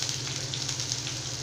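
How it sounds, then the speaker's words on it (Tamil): Steady frying sizzle of chopped onions sautéing in a pan, a continuous crackling hiss with no speech. "இப்போ இது எல்லாமே சேர்த்து நல்லா வந்து நம்ம வதக்கி விட்டுக்கலாம்"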